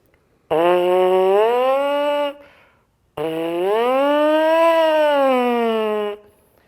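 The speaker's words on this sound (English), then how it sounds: "You actually buzz your lips to vibrate the air column inside these instruments." Two long buzzing tones, each bending upward then sagging, like lips vibrating through a brass mouthpiece, close and loud with a short pause between.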